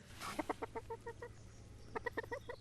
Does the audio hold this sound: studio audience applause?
no